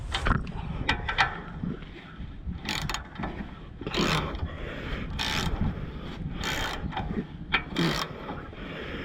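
Ratchet wrench loosening the front lower ball joint bolt on a Volvo P2 series car, up close, with a run of quick clicking ratchet strokes interrupted by louder sharp bursts as the bolt gives.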